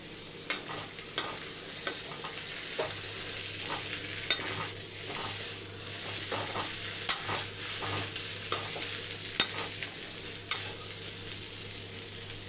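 Potatoes fry in a pan, a steady sizzle broken by repeated sharp scrapes and taps of a spoon stirring them, close and moderately loud with no voices.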